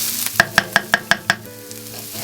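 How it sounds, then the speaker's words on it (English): Garlic is stirred into frying onions for Filipino garlic fried rice: six quick, evenly spaced clinks of a utensil against the pan ring out over a low, steady sizzle, then the stirring stops and only the soft frying continues. "now we can incorporate the garlic into the onions"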